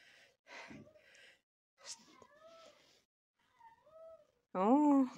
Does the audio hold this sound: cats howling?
yes